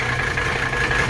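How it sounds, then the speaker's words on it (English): Classic Mercedes W108 five-cylinder engine idling roughly and misfiring, a steady low mechanical rumble with a faint uneven shake, heard close and alone without talk. "You can see it's shaking a little bit at idle here. It's not firing on all 5 cylinders."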